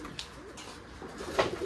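A Giribaz pigeon on a pigeon farm coos softly in low, throaty pulses amid faint background noise, with a brief sharper sound near the end.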